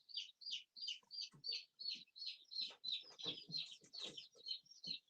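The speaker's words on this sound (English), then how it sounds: "That little chicken was looking at the camera like, what is he doing?" Chickens on a small growing farm cluck in a steady run of short calls, about a dozen bursts in five seconds, close and fairly clear with no talk over them.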